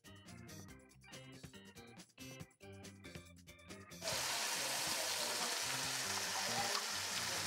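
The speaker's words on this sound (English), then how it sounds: "Just going to fry them off in a nice hot pan, a little bit more olive oil so they don't stick to the pan" Marinated chicken breasts frying in a hot pan with olive oil, a steady broadband sizzle that takes over after a stretch of music and then holds loud and constant to the end.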